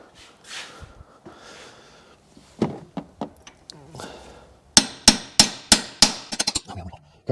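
Sharp metallic hammer blows ring out against a Subaru WRX part, a few scattered strikes and then a quick series of hard hits, close and loud, with some breathing between.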